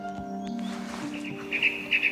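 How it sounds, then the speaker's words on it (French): Male songbird singing to mark territory, a few thin high chirped notes near the end over a faint background hum and a brief low voiced sound early on. "c'est le mâle qui est en train de chanter"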